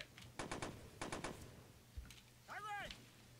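Two quick bursts of distant automatic gunfire in В тылу врага 2 rattle faintly, three rapid shots each, followed by a lone thump and a brief warbling tone, all at low level.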